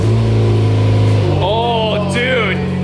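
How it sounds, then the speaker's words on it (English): A Dodge SRT4 running with the catalytic converter removed and the pipe back on, its engine droning loud and steady at idle, then rising in a couple of quick revs that swell and fall back. "we're testing how the car sounds without the cat and with the pipe back on the car"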